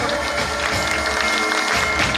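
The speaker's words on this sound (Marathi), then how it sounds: "सर्वांनी टाळ्या वाजवाव्यात" Audience applause fills a community ceremony honoring a guest's wife at a Vishwakarma Jayanti festival and society gathering in Shirpur, Washim; steady, dense clapping continues evenly throughout without pause.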